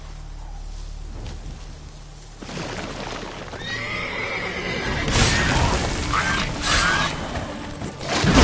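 Roach, a horse in the Witcher video game, neighs and whinnies loudly in several rising calls. Hoof clip-clops and game sounds play underneath, with no talking.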